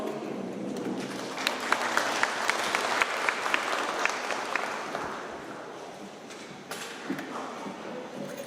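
A modest crowd at a spring community gathering claps with light, scattered applause, fairly distant and moderately quiet, with a few sharper individual claps standing out before it fades.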